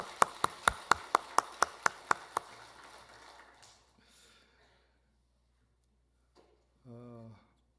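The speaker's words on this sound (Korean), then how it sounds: "이 시대의 모든 아버지들에게도 박수 한번 쳐주세요." A church congregation claps about ten times in quick unison beats, then fades into quiet, and a single voice speaks briefly near the end.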